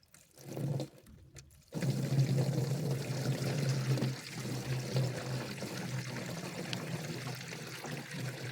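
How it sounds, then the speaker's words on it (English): Maple sap pours steadily from a jug into a container nearby, a continuous gurgling stream after a brief clunk of handling at the start. "Because now I go empty"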